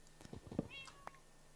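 A cat meowing in the Minecraft video game, a short faint mew followed by a second brief call, quiet and isolated with little else around it.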